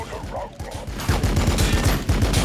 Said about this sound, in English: Firing cannon!